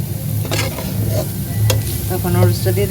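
Carrots stir-fry in a pan for noodles, a close, lively sizzle broken by quick scrapes and tosses of the spatula.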